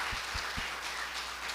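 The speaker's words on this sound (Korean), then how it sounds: "우리 주방부 정말 박수 한번 우리 좀 감사의 박수 줘야 돼요" A church congregation gives a short round of thankful applause, a faint, diffuse patter of many hands with a few low thumps at the start, fairly distant and without speech.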